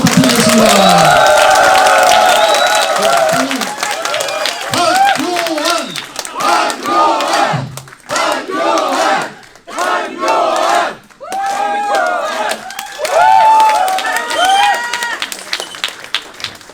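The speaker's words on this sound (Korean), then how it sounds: "큰 박수 부탁드리겠습니다." Large crowd at a lecture event cheers and shouts loudly as the prime minister is introduced, with a host's amplified voice calling out over the noise and bursts of crowd chanting throughout.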